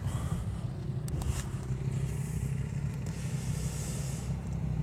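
Steady low engine rumble with wind hiss from a motorcycle riding along a road in Spain, constant and close throughout, no talk.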